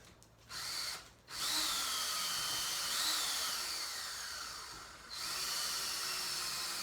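Power drill bores a hole into a garage wall while wire shelves go up, giving two short whirring bursts and then a sustained, steady drilling whine of several seconds, close and fairly loud with no talking.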